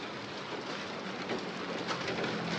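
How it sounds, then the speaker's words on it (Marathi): Heavy, steady downpour of rain with hail, a dense hiss striking surfaces, unbroken and even in loudness throughout. "हा मिरॅकल गारांचा पाऊस"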